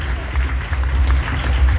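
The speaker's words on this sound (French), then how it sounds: "Continuez à les applaudir, messieurs, dames." An audience at a festival paying tribute to Charles Aznavour claps in a dense, steady round of applause that sounds like a crowd filling a hall, with a voice faintly under it.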